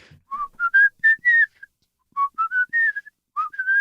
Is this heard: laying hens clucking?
no